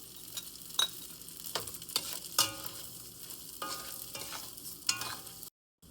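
Polao rice frying in oil with bay leaf, cinnamon, shahjeera and kabab chini, a soft steady sizzle broken by repeated sharp scraping stirs of a spoon against the pot, close, then silence at the end.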